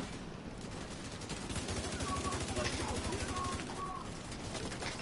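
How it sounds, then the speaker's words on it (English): Turret gunfire in a video game raid: a rapid, steady stream of shots that swells through the middle of the clip, heard amid busy game sounds and faint high electronic tones. "Alright, Ego's on the turret"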